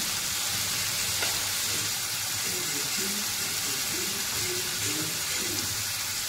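Dal and potato sauté in a pan over a high gas flame, making a steady, even sizzle throughout with faint stirring scrapes and a soft hint of voice in the background.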